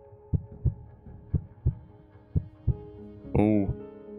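A heartbeat in the Paper Lily video game pulses in clear, regular double thumps, low and fairly close, before a short tonal, voice-like sound rises briefly near the end.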